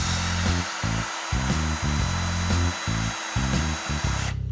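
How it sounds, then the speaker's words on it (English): Power drill driving screws during a workplace task, its motor whirring loud and close in repeated short bursts with brief pauses between runs, then stopping abruptly. "I'll take the drill from you."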